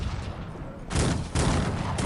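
Musket volleys crackle in the Cossacks 3 strategy game, two bursts of massed gunfire arriving close together over a busy battlefield background.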